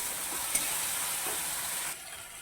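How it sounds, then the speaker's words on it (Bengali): Spice mixture frying in a pan for a vegetarian jackfruit kofta curry, a steady close sizzle over about two seconds that drops to a quieter hiss near the end, with no voices. "মশলাগুলোকে ভালোভাবে একসাথে ভেজে নেব"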